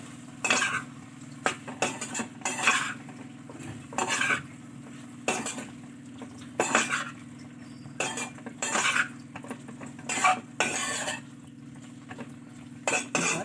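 Paneer korma is stirred in a metal pan, with repeated bursts of scraping and clinking from the utensil separated by short pauses and backed by a faint steady hum.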